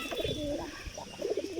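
Pigeons kept as pets coo softly in a loose, repeated pattern, several low murmuring calls close by against a quiet outdoor background.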